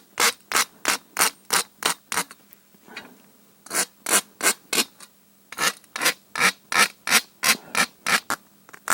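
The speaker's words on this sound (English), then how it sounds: "after this we need a much finer file." A fine hand file worked over aluminium, giving rapid rhythmic rasping strokes in bursts of several passes, each a short bright scrape, with brief pauses between runs; close and clear, no talk.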